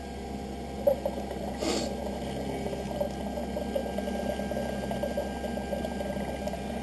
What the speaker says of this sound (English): it's just going to go back onto the bevel wheel in the center, and 1/10 of a millimeter is going to come off your lens